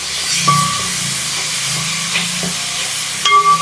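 Sliced onions sauté in oil with salt, softening toward golden brown, giving off a steady close hiss with faint scattered clinks.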